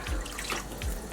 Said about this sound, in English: Put in the water to boil the chicken.